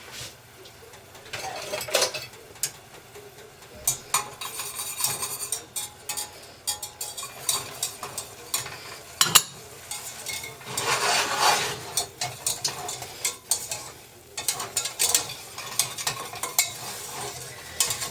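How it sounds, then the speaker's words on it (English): A whisk beating flour into a pan of cooking fat and paprika for a chicken cordon bleu casserole, rapid irregular scraping and clicking against the metal pan over a light sizzle, close and continuous with no talk. "now I'm going to whisk in my flour"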